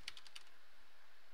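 Quick keystrokes on a computer keyboard, four light close taps in a rapid burst followed by a quiet room.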